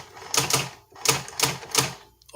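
A Brother GX-6750 electronic typewriter working its carriage return: sharp mechanical clatters in quick pairs, repeating three times, close and loud against a quiet room.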